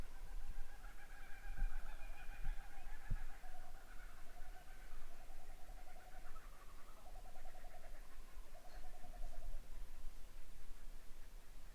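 Kookaburras call in the Australian subalpine bush, a repeated rising and falling laughing chorus in bursts, heard at moderate distance over faint background noise.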